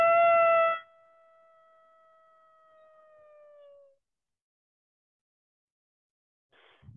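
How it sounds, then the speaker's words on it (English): A single long, wavering howl from a wolf-like animal rings out alone, holding steady for a few seconds before fading, with a brief rustle at the end. "A howl ripped through the forest."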